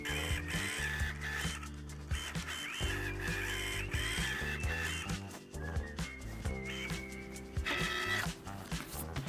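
Cricut machine cutting heat transfer vinyl on a mat: a steady, quiet mechanical whir with rhythmic motor buzzing and shifting pitches as the carriage moves back and forth, alone with no talk.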